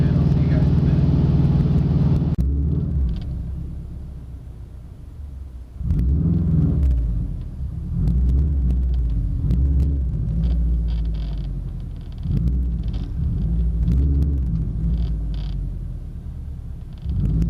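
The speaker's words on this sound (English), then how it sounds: "you can barely hear me over the motor there when I'm accelerating" Car engine running under acceleration, heard from inside: a loud, steady low rumble that swells and eases in waves, with faint creaks and rattles over it.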